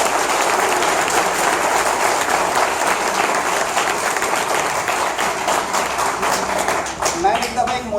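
An audience at a motivational lecture breaks into loud, sustained applause, dense clapping that fills the room and tapers slightly toward the end.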